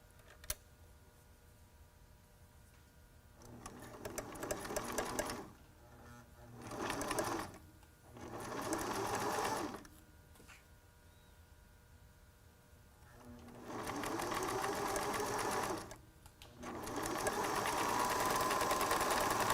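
A sewing machine stitches a T-shirt face mask with elastic, running in several steady bursts of rapid whirring separated by pauses, close and fairly quiet with no talk.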